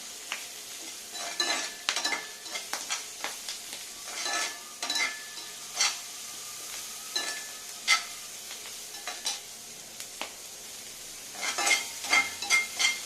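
A spoon scrapes and stirs onions sautéing in a pan for mutton salna, quiet irregular scraping strokes and clinks over a faint sizzle, close and without voices.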